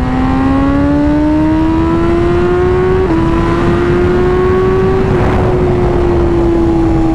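A Range Rover drives on a steady engine drone whose pitch rises gently as it accelerates, a continuous loud hum with a brief gear shift partway through and no talk.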